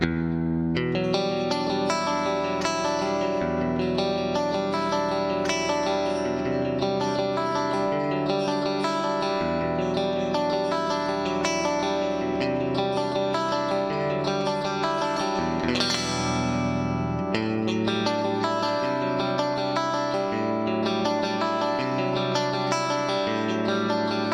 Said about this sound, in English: There's this TC SCF style chorus in here.